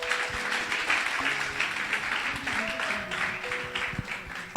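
A church congregation applauds and cheers together at a French-language worship service, sustained clapping and voices under some nearby talk.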